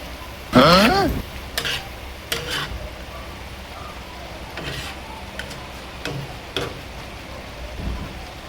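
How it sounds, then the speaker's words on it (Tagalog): Chicken with seasonings and Knorr cubes is stirred in a pot over a steady sizzle, with a loud scraping swirl at the start followed by scattered spoon scrapes and taps against the pan, with no talk. "Ihalo natin yung mga pampalasa, Knorr cubes,"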